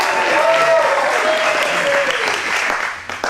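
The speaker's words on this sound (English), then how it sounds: "How about a nice round of applause?" Louder, sustained audience applause at a live storytelling show, dense clapping with some crowd noise and faint voices underneath, tapering off near the end.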